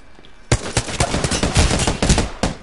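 Rapid bursts of video game gunfire, loud and close, a string of sharp shots fired in quick clusters after a brief quiet start.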